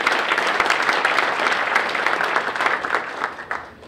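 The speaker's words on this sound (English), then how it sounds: "if we can give Chris and the staff a round of applause for that" An audience at a chamber of commerce luncheon gives a round of steady applause, many hands clapping together in a dense, even wash that holds for several seconds before tapering slightly near the end.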